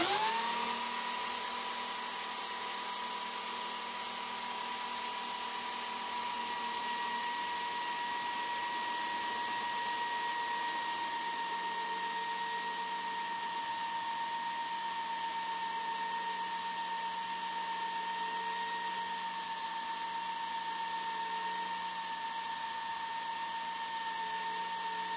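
An old sneaker is pressed at an angle against running sandpaper to clean it, making a steady, close, loud motor whine with a constant pitched hum and a grinding rasp that holds throughout.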